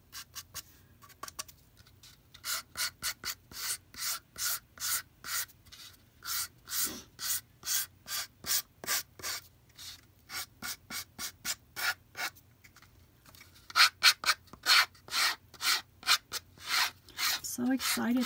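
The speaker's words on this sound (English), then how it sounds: "you can come back and kind of sand your edges" Rhythmic back-and-forth sanding strokes along the edges of a wooden name plate, steady and close, repeating through the whole stretch with no talking, pausing briefly before picking up again with quicker, slightly harder passes near the end.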